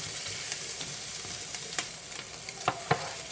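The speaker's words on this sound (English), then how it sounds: "go ahead and add in our onions. And I'm going to cook these together for another 3 to 5 minutes" Bacon and onions sizzle together in a frying pan, a steady bright crackle with sharp pops and spatters and a few stirring scrapes near the end, close and unbroken by talk.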